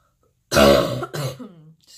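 A single sharp cough bursts out after a short silence, followed by a brief second throat-clearing sound, close and fairly loud.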